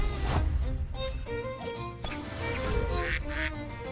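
Quacking from a duck-like creature in the video game Temtem, several nasal honking calls in an uneven sequence over busy game sounds, fairly close and clear.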